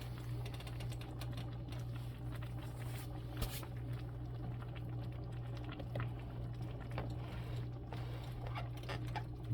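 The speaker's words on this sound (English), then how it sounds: "So that's boiling right now." A pot of beef and vegetable soup with chipotle bubbles steadily on the stove, a continuous soft patter of boiling over a constant low hum, with no one speaking.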